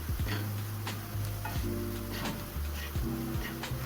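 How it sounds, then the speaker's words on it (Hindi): A spice masala with red chili powder roasts in a pan, giving a continuous close sizzle broken by repeated scraping stirs, with a low steady hum underneath throughout. "तो चलिए मसाला को भी थोड़ी देर भून लेते हैं, थोड़ा इसका कच्चापन निकल जाएगा।"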